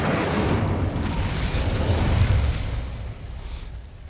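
A fire spell is cast in the Hogwarts Legacy video game, giving a loud, whooshing burst of flame that roars for a few seconds and then fades slightly, with no talking.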